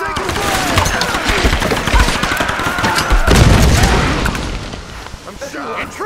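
Heavy gunfire and booming impacts in Tomb Raider 2013 rumble loudly and continuously, mixed with shouting voices and chaotic combat noise.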